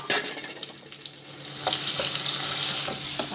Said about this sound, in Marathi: खोबरं छान भाजून घ्यायचं व्यवस्थित.